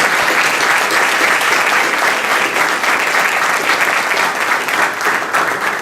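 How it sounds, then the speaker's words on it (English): An audience at a sport management conference keynote gives a big round of applause for the organizers, a loud, dense, even wash of clapping that lasts the whole time. "how about a big round of applause for our organizers?"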